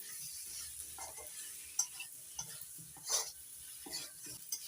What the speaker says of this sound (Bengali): দুই তিন মিনিট মশলাটা ভালো করে কষিয়ে নেব